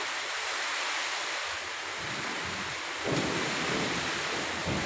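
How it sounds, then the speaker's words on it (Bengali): Steady, dense roar of heavy rain pouring down, loud and continuous, growing slightly heavier partway through, with no voices. "প্রচুর পরিমাণে বৃষ্টি হইতেছে"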